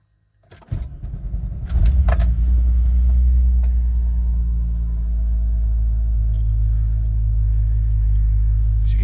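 A cold 1993 Volkswagen Corrado SLC VR6 cranks briefly and catches, then settles into a loud, steady, low idle rumble close by.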